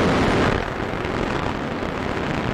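A Bloodhound Mk. I surface-to-air missile launching at the Woomera rocket range in South Australia in 1958: a loud, roaring rocket blast that starts at full force, eases slightly after half a second, then holds as a dense, steady rumble.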